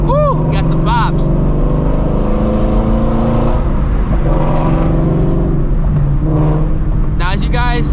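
A Ford Shelby GT350 running on E85 fuel, its engine revving loud and close with a few sharp exhaust pops and crackles in a driver's-seat drive, a voice talking over it.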